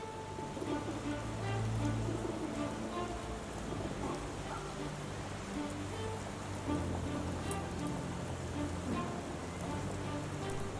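Rain falls steadily in the Sherlock Holmes The Awakened video game, a dense continuous patter with a low rumble beneath, unbroken and even for about eleven seconds.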